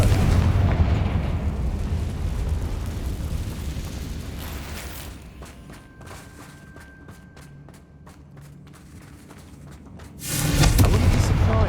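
A Confringo fire spell explodes in the Hogwarts Legacy video game, a loud rumbling blast that fades into quieter crackling debris before a second heavy booming burst near the end.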